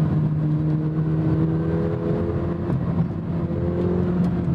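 A 2024 McLaren 750S engine drones steadily with a revving note as the paddle downshift comes in, continuous and fairly close for several seconds, with no talking.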